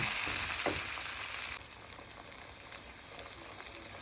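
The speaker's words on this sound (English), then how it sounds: "I'm gonna let the beans and the onions fry for a couple of seconds" Black beans and onions frying in a pan for Spanish rice: a steady, close crackling sizzle that is loudest at the start, then settles into a softer, continuous hiss with light stirring.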